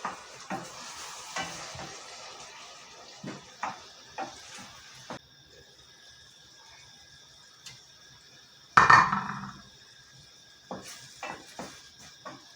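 Tomatoes tipped into a pan of peppers and onions already well browned, with faint stirring and utensil scrapes over a low sizzle, then a sharp louder burst of hissing and clatter as they land, settling back to occasional scraping.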